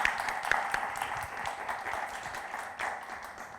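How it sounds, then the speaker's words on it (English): An audience in a room applauds at the close of an art talk, a moderate, fairly distant patter of many hands clapping steadily without speech over it. "I hope you can hear the applause in the room."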